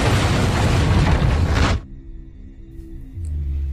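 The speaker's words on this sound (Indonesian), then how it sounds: "Saat John ingin menghentikan Mariko, pintu yang berada di belakang Mariko meledak" A door blasts apart in a film scene with a loud, roaring explosion lasting nearly two seconds, then cuts off sharply into a low, droning rumble.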